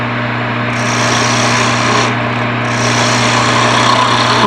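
A wood lathe spinning a workpiece while a gouge cuts into the wood, a continuous loud whirring hum with a rough scraping hiss that shifts in intensity as the tool bites.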